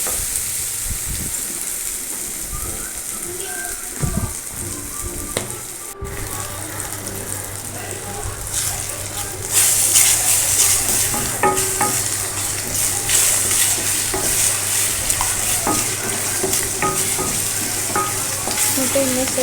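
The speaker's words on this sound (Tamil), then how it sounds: "முட்டையுமே சேர்த்து நல்லா ஃப்ரை பண்ணிக்கோங்க ஃப்ரெண்ட்ஸ்." Ridge gourd and four eggs stir-fry in a pan with a steady, fairly loud sizzle, broken by repeated scraping strokes of a spatula. The sizzle grows denser and brighter in the second half, close by with no talking.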